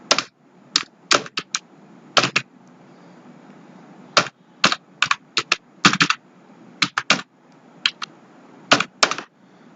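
Keystrokes on a computer keyboard tap out a single word in quick irregular bursts with short pauses between, close and crisp against a quiet room.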